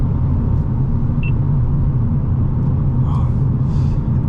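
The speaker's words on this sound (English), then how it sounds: "And you can hear the road." Road noise fills the cabin of a 2025 Hyundai Elantra N DCT on the move, a loud, steady low rumble with a few faint higher chirps, no voices over it.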